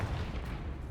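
A Confringo spell explodes in Hogwarts Legacy: a short, dense, low rumbling burst, fairly loud, lasting under a second with no pause.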